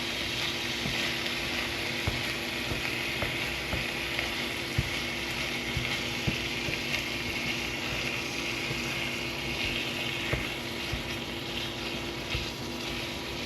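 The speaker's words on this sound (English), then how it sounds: "I'm just going to break the ground beef or the Wagyu into small pieces." Wagyu ground beef sizzles steadily in a hot pan as it is broken into small pieces, with faint scraping and tapping from the utensil over the continuous frying hiss.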